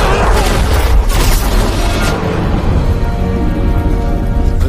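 An explosion blows up a box of money, a loud, close boom with crackling debris that fades into a dense rumbling tail under a music bed.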